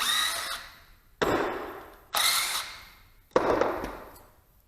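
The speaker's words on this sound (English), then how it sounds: "I'm going to use the 14mm socket on the other two" A 14mm socket wrench works timing cover bolts loose on a Datsun Z car engine, four sharp separate bursts of clicking and rattling, each fading out before the next starts.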